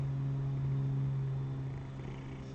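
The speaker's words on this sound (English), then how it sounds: "she's like right up in my face purring" A pet cat purrs right up close to the microphone, a steady low rumbling drone with a humming buzz, continuous and fairly quiet, with no talking.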